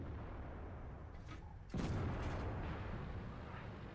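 In World of Tanks, with a TOG II tank, a single faint cannon shot booms out of quiet background game noise, followed by a short fading rumble.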